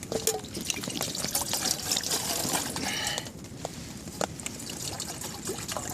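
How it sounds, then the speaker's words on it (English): Cold water pours from a container into a pot on a Dragon Stove, a close, steady trickling and splashing stream that runs for several seconds and thins out toward the end. "we need to boil some water"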